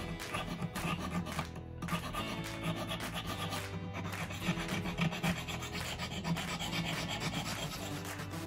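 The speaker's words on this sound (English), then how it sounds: "just use the files to do the final refining afterwards" A hand file works a metal Star Trek Starfleet badge prop, giving quiet, repeated rasping strokes in a steady rhythm close by, alone without talking.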